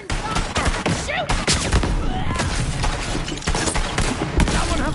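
Rapid gunfire rattles through a Borderlands firefight, loud bursts and overlapping shots packed densely across the whole span with a voice briefly mixed in.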